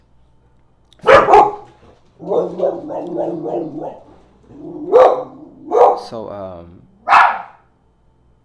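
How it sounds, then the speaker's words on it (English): A dog barks and yowls in several loud, close bursts with short gaps between them, and its howl-like cries waver in pitch. "yeah, that was a dog."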